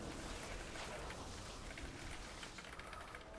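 Steady rain falling in the World of Warcraft video game, a dense, even wash of close patter and hiss with no breaks, heard alone without talk.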